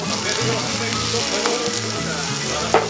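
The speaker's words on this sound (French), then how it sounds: "Il y en a en train de mettre les bananes sur le bordéro, il est aussi flammé que les bananes." Bananas flambéed on a griddle with salted butter caramel sizzle loudly and without a break, a dense, continuous frying hiss with a low rumble underneath.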